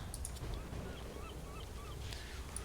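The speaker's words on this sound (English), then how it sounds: "Here's another one of our swans." A swan honks in a Dol Amroth video game, with several soft, brief honks spread over a quiet, steady background.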